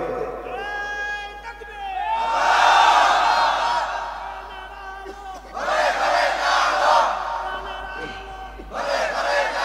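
At a religious waz sermon in Panchagarh, a lone leader's call is followed by a mass of voices roaring the takbir three times, big, loud, massed shouts separated by brief lulls.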